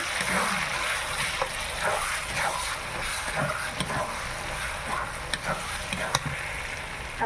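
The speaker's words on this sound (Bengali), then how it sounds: "লঙ্কা গুঁড়ো, ভালো করে ভেজে নে।" Chili powder sizzling in hot oil with turmeric in a pan for a village-style meat curry, a steady close frying hiss with faint stirring scrapes and small pops.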